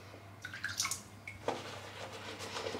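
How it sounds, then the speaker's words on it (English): Water dripping and trickling into a shaving brush knot with a silk base, soft irregular drips and light splashes close by, alone with a steady low hum underneath. "Just dripping water in now under the top of the knot."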